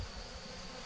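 Honeybees buzz as they are pushed aside during the transfer of a Spanish Layens beehive, a close, continuous droning hum with no speech.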